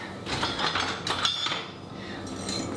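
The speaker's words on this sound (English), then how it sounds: "now we're gonna add the white sugar. And that will be whisked together. So I'm gonna grab my whisk" Dry flour, oat flour, baking soda, baking powder and white sugar whisked together in a bowl for vegan chia seed scones, a steady run of light clinking and scratching strokes, close and alone without talk.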